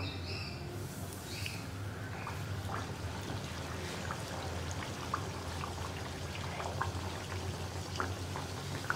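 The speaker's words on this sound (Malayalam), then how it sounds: "ഈ ബൺസ് ഓരോന്നും ഓരോന്നായിട്ട് എണ്ണയിലേക്ക് ഇട്ടിട്ട് നമുക്ക് പൊരിച്ചെടുക്കാം" Buns frying in hot oil for Mangalore banana buns, a soft steady bubbling hiss with scattered small crackles, fairly quiet and continuous with no voices.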